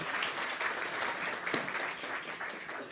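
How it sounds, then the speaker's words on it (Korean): A church congregation applauds as a deaconess is called up to give a testimony, a continuous, fairly soft wash of many hands clapping that holds steady with no voices over it. "박수해 주십시오."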